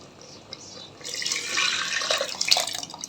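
Dal and tamarind pulp are poured into a pot of sambar, making a close, wet splashing pour that swells after a quiet start and ends in uneven liquid gurgles.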